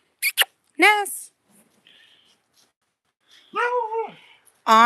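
An ancient female dog barking indoors: a couple of hoarse, drawn-out barks with short gaps between them, close by.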